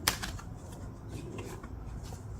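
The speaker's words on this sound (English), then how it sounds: "A couple of shuffles and then we'll be good." A deck of affirmation cards being shuffled, giving quick papery riffles and soft flutters in a couple of bursts, close to the mic and alone without talk.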